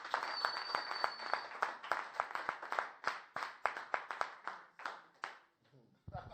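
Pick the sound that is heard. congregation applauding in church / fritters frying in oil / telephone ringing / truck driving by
congregation applauding in church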